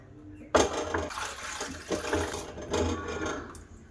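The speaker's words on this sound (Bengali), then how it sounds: "তো প্রথমে আমি জল দিয়ে পরিষ্কার করে ধুয়ে নেবো আমগুলো।" Raw mangoes being rinsed and swished in water, a splashing, sloshing wash with a sharp onset near the half-second mark, then irregular bursts of agitation in a bowl at close range.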